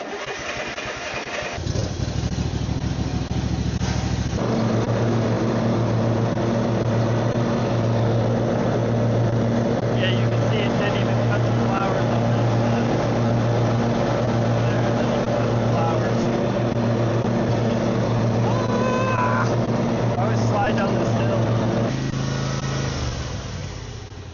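A riding lawn mower with some play in its blade spindle starts up and runs loud and steady for about twenty seconds while cutting grass, its engine droning evenly throughout before winding down at the end.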